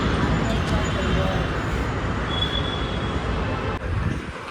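A metro train rumbles steadily close by at National College metro station, with a brief high squeal partway through and a voice talking over it.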